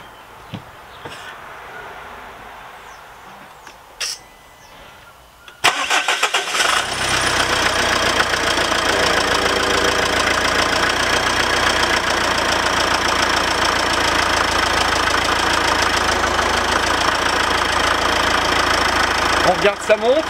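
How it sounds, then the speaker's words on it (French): A car engine cranks and fires after an engine flush treatment is added to the oil, then settles into a steady, loud idle that runs on alone, following a few faint clicks and movements. "Voilà. On démarre la voiture."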